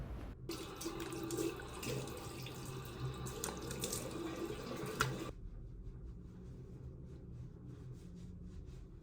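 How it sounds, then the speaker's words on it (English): A running tap gushes and splashes steadily into a sink for about five seconds while someone rinses their face after removing a modeling mask, then cuts off, leaving a few faint drips and quiet. "I rinsed my face with water"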